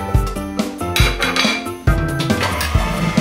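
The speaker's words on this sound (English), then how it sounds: "First, I'm gonna throw my cream cheese, then my butter, and we're gonna mix well." Cream cheese and butter being mixed in a bowl for a red velvet cake frosting, loud clanking and clinking of a utensil against the bowl in quick irregular knocks, close and without talk.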